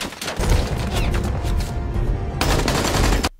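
Rapid gunfire from a shootout in an Indian action film, dense bursts of overlapping automatic shots and booms running nearly continuously and loud, with a slightly thinner stretch before the barrage intensifies again.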